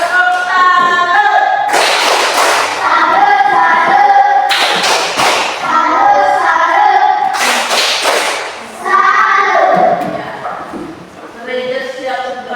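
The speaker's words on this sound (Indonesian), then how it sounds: "Iya, tepuk tangan untuk Safety." A classroom of pupils during a science lesson breaks into three short bursts of group hand clapping, each a second or so, close and loud, with children's voices chattering and calling out between and over the applause.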